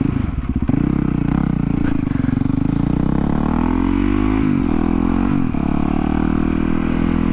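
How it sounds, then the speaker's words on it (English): Motorcycle engine sputters and stalls, then struggles to start while in gear, with a brief rough clatter followed by a loud, close, uneven running drone and a couple of dips in revs; no voices. "This bike doesn't like to start in gear."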